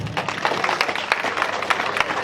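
An audience applauds at a Senoufo cultural night gathering, a steady dense patter of many hands clapping at moderate loudness with a few sharper individual claps standing out, no voice over it.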